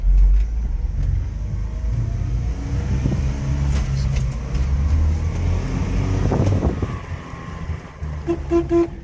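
A Honda Acty mini truck engine drives in first gear, a steady low rumble close by with some mechanical clatter, and a brief higher tone near the end.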